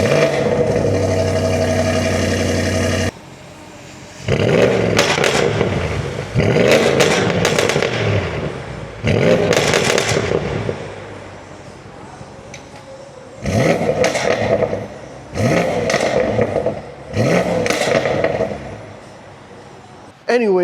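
A BMW M550 fitted with catless downpipes starts up and revs in repeated loud bursts, each blip falling back to a rumbling idle, heard close with no talking.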